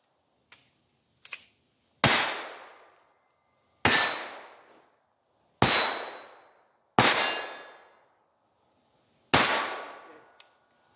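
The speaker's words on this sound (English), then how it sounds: "this is a Ruger SR22. I'm shooting 22s here." A Ruger SR22 pistol firing .22 rounds gives five sharp, loud shots, each with a short ringing decay, spaced one to two seconds apart after a couple of faint clicks.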